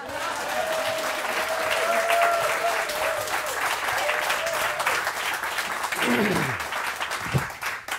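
Steady applause from a crowd fills the whole stretch, dense and continuous, with a tonal sweep and some murmuring mixed in.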